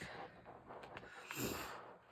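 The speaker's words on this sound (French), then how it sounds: "Excusez-moi si je renifle." A faint, close sniff of air through the nose, brief and quiet against soft room noise.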